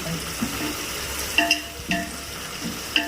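Ingredients for prawn biryani sautéing in a pan, a steady close sizzle with several sharp scraping stirs of a utensil against the metal, no talking.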